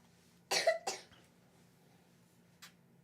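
Two sharp, close coughs burst out in quick succession, followed by a fainter short cough a moment later, against a quiet room with a steady low hum.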